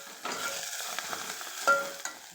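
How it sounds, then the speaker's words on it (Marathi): Fenugreek greens sizzling and being stirred in a hot pan, with soft crackling and occasional scraping taps of a spatula, steady and close. "आता मेथी आणि पात छान परतून झाले"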